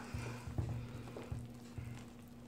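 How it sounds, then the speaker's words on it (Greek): Cake batter of tahini, cocoa and orange juice stirred by hand in a bowl, faint soft rhythmic scraping strokes repeating about every half second over a low hum. "Λοιπόν, ανακατεύω καλά"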